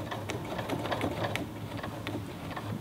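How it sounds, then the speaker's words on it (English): A Kenmore 19233 sewing machine stitches through stiff buckram curtain header, giving a steady, close mechanical whir with rapid needle ticks throughout and no talking. "I'll show you how it sews through it."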